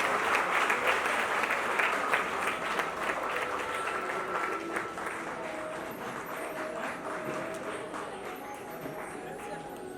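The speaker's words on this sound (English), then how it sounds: "Big round of applause." An audience at an event gives a big round of applause, sustained dense clapping that fades slightly toward the end, with voices talking over it.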